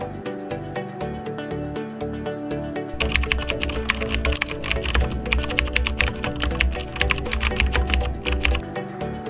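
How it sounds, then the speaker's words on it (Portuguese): Fast keyboard typing as code is entered on a computer, a dense run of clicking keystrokes that starts a few seconds in over soft background music and continues steadily to the end. "Agora vou digitar os códigos e na sequência fazer o comentário."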